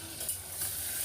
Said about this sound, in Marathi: बघा बोंबील बटाटा आणि वांग आणि हिंग मीठ हे टाकून चांगलं परतवते मी.